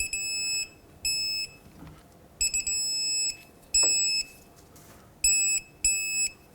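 An electronic torque wrench beeps repeatedly while wheel bearing bolts on a 2009–2015 Toyota Prius are tightened to 30 foot-pounds: a series of clear, high beeps, some short and some held longer, with faint metallic clicks between them.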